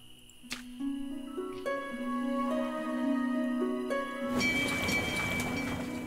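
Rain in the village-building game Life is Feudal: Forest Village arrives as a steady, broad hiss partway through, over sustained tonal game music that plays from the start.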